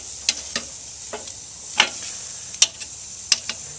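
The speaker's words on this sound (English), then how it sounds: "Let's take them, we'll flip these racks over." Smoked chipotle baby back ribs are flipped on a smoker, with a soft steady sizzle broken by a few sharp metallic clicks and taps of the tongs and grate, close by.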